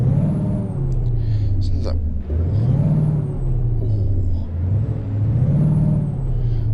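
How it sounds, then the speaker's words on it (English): A modded truck engine rumbles in a trucking video game, loud and close, with its pitch rising and falling through revs, plus air-brake hisses. Someone speaks briefly over it. "Oh, that truck sounds nice. That must be that mod that I've installed."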